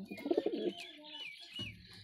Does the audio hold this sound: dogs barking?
no